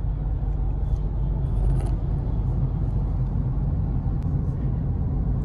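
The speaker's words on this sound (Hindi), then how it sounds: "देखो गाड़ी अपने आप चल रही, मैं कुछ भी नहीं कर रहा हूँ." A Mahindra XUV700 drives itself on a road using its lane assist, its steady low road and engine rumble continuous and even throughout with no talk over it.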